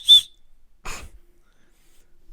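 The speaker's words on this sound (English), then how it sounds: "I got a whistle" A single short, shrill whistle blast right at the start, close and loud, followed by a breathy puff and quiet.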